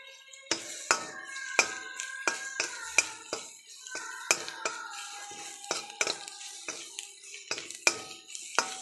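A spoon taps and scrapes a pan while broccoli curry ingredients and coriander powder sauté. Sharp, clinking strokes come irregularly and up close, with quieter gaps between them and no strong sizzle.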